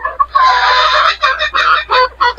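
Gamefowl roosters, a three-quarter sweater and one-quarter Boston cross, cluck loudly and close by in a quick, choppy run of harsh calls. One longer call opens, then a string of short bursts follows, with no talking.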